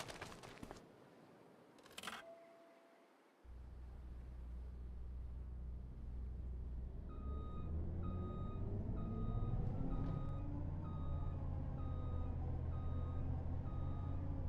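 Repeating electronic reversing beeps sound from a truck in Farming Simulator 25, set on a Western Australia grain farm, a steady evenly spaced series over a low continuous engine rumble with no talk.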